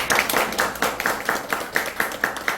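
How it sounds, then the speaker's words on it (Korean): A lecture audience claps in a brisk, even rhythm of about a dozen sharp, close claps. "그런 저에게 박수 한번 합니다."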